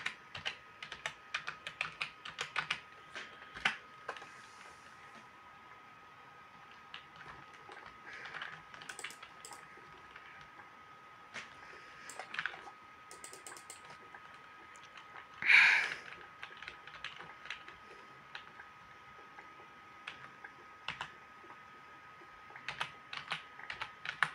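Quiet typing on a computer keyboard, scattered bursts of soft key clicks with pauses, close by and faint over a low steady hum.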